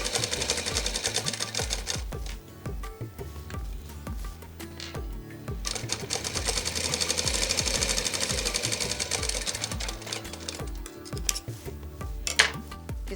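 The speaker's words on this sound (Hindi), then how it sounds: "नीचे की साइड मिलाते हुए आधे इंच की सिलाई लगा देंगे और ये जगह बंद कर देंगे।" A sewing machine runs continuously while stitching a half-inch seam along the lower edge of a flared skirt, its rapid needle rattle steady and close with brief changes in pace.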